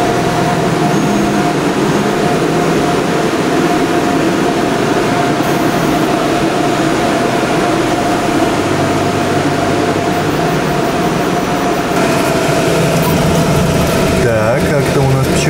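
A dense, constant whir of chamber cooling fans on seventeen 3D printers running together in one small room, loud and unbroken, with a faint steady tone riding on top.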